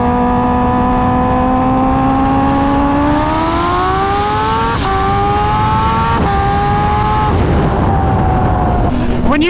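A 1,200-horsepower twin-turbo Lamborghini accelerates hard through the gears, its loud, close engine note climbing steadily in pitch with two brief dips at upshifts before rising again.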